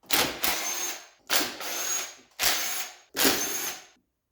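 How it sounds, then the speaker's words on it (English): A ratchet loosens bolts on the valve cover of a twin-turbo Corvette C6 Z06 engine, making four close, evenly spaced bursts of rapid clicking, each about a second long, with short silent gaps between them. "So let's pop a valve cover off and see what we're looking at."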